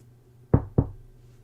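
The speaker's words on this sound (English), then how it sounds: "walked over to your door and knocked" Two firm knocks on a bedroom door, close and distinct, about a quarter second apart, over a quiet room with no talking.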